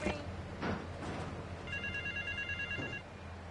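Telephone ringing in a video game, an electronic bell trilling in short bursts through the middle, moderately loud against a background music bed and game voices.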